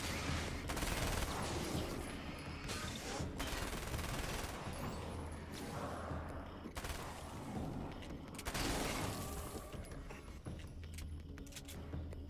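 Gunfire in Alan Wake's American Nightmare, a fast, loud volley of shots in several bursts across the clip, close and punchy, with game noise between the volleys and almost no talking.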